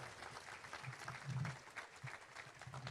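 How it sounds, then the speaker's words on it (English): A live event crowd at a wrestling fan convention gives a round of applause for a woman called up on stage, a faint, distant patter of clapping with low murmuring underneath. "Ladies and gentlemen, a round of applause for Lexi."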